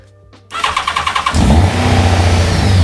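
A Yamaha FZR 1000 motorcycle engine cranks over with rapid chugging on the starter, then fires and settles into a loud, steady running roar close to the microphone.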